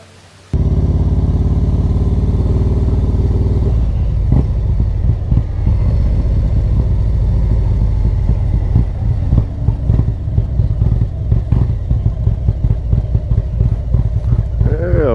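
Harley-Davidson motorcycles on a group ride near Lake Okeechobee in Pahokee. A loud, steady engine drone starts suddenly and continues with rough, rumbling throttle changes, with a voice talking over it.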